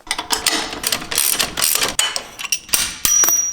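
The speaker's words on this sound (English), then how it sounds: "we're going to go ahead and use an 18mm socket and an 18mm wrench to do that now" Socket and wrench at work disconnecting the shocks from the axle of a Jeep JL Wrangler during a lift kit install, producing dense, close metallic ratcheting clicks and clanks in uneven bursts.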